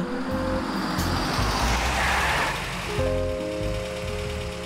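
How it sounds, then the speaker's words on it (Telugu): A cartoon car engine from an animated series drones loud and close, its buzzy tones stepping up and down in pitch with no voices. "బాస్ బాస్, ఈ కారు శబ్దమే మాకు వినిపించింది బాస్"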